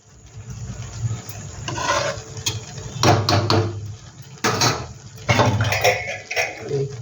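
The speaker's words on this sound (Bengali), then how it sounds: "আমি এবার ঢাকাটা দিয়ে দিলাম।" Metal pot lid clattering onto a pot of vegetarian potato biryani in a home kitchen, several close clanks and scrapes of metal on metal.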